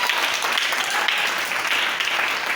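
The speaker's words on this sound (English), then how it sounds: "You have to give a clap to God." A church congregation claps during a sermon, steady crowded clapping that fills the room evenly and continues unbroken, with no voices heard over it.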